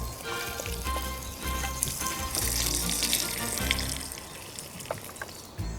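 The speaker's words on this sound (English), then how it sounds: "I'll let our meat get nice and brown to add extra flavor to the stew." Meat browning in a pot for stew, a soft continuous sizzle and crackle with faint watery spatter, quiet and close, with no talk.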